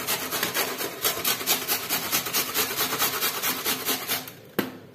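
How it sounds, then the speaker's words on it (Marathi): Onions rubbed over the coarse side of a hand grater for a stuffed paratha filling, a steady rhythmic rasping of quick close strokes that runs continuously and ends with a sharp knock. "तर हे कांदे आता आपण खिसून घेऊया।"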